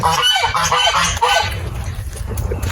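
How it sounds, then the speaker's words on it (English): Geese honk continuously and loudly at close range, a dense overlapping chorus of harsh calls with no pauses. "Let's see if I can get away from these geese a little bit."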